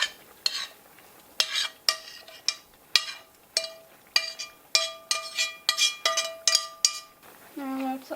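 A metal spoon clanks repeatedly against a cooking pan as ground pork is added to and stirred into vegetables, giving a steady run of bright clinks, with a voice briefly heard at the end.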